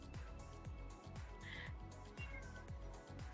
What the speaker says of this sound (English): Somebody has a cat that's yelling at them.